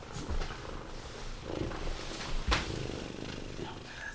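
A man imitates a cat purring with his voice, a soft, rhythmic rumbling purr with a few short breathy bursts, heard close in a quiet room.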